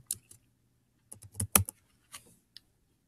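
Light tapping on a Chromebook keyboard as a document title is typed, a short, quiet burst of close key presses with brief gaps, alone in a silent room.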